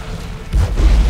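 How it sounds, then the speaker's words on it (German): A deep explosion in the video game Dead Space 3 lands as a heavy low boom about halfway through and rumbles on loudly to the end, with no talking. "Ich habe die Explosion aber überlebt."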